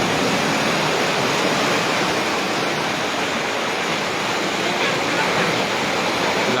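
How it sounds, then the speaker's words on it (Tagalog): River overflowing its banks with floodwater after typhoon rain, a loud, unbroken rushing roar of water that stays constant and close throughout. "Umapaw na yung tubig sa ilog mga lodi ko."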